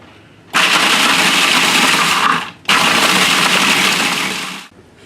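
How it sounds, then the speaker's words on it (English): A food processor crushing gingersnap cookies into powder, two loud sustained bursts of grinding roar, about two and four seconds long, separated by a short pause. "You put them in there to crush them up into your food processor."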